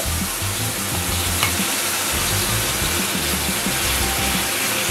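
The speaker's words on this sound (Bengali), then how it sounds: "ম্যারিনেট করা চিকেনটা অ্যাড করছি।" Marinated chicken hitting hot oil with cumin seeds: a loud, dense, continuous sizzle and crackle close by, with no voices.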